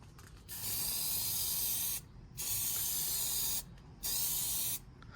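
An aerosol can of plastic dip sprays in three steady hissing bursts onto a Chevy Tahoe grille, each lasting one to two seconds with short pauses between, close and clear.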